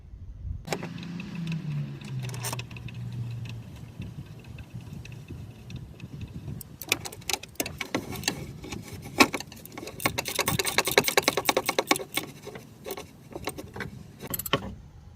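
Bolts being tightened on the EGR valve of a 1998 Ford F150, with a rapid run of ratcheting clicks dominating the second half after a low mechanical hum and a few scattered metallic taps, close and fairly loud.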